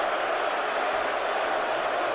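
A dense roar from a packed NFL stadium crowd at an Eagles home game against the Dallas Cowboys rises after a dropped pass. The noise is broad and unbroken, with no distinct voices standing out.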